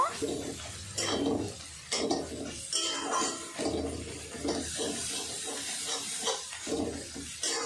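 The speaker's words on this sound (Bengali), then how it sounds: "আদা রসুন বাটা দেওয়ার পরে কাঁচা গন্ধটা বেরিয়ে যায়, সেই কারণে আমি ভালো করে এটাকে কষে নেব।" Ginger-garlic paste is sautéed and stirred in a pan for a Bengali tiger prawn malaikari, giving continuous scraping, clattering and sizzling with no talk.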